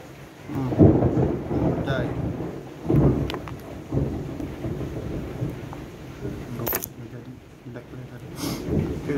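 Heavy rain hisses steadily while low rumbles of thunder swell and fade, with occasional sharper knocks and clatters nearby.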